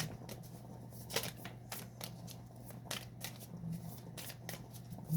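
Little black cards being shuffled for a reading, a run of soft, quick riffling flicks in an even rhythm over a low steady hum, close and fairly quiet, with no one speaking.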